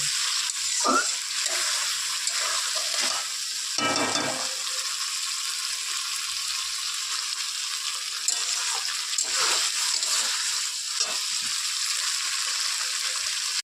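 Potatoes sauté with spices in a pan for aloo dum, giving a continuous soft sizzle with occasional spatula scrapes and stirring knocks, heard close and steady throughout.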